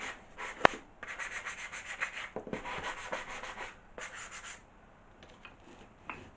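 Rhythmic hand sanding on the edge of an antique wooden furniture piece being restored, a series of short, close scratchy strokes in quick bursts with brief pauses between them.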